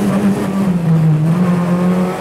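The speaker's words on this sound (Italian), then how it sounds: "un motore strepitoso, un rumore, un sound, un odore di vera auto da corsa" A Peugeot 207 S2000 rally car engine pulls hard under acceleration, a loud close steady howl with its pitch rising and dipping slightly through the gear, heard from inside the car.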